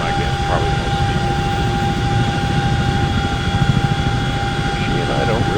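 A CH-47 Chinook tandem-rotor helicopter landing in the X-Plane 11 flight simulator game, a loud, steady engine and rotor drone with whining tones filling the whole stretch, no pauses.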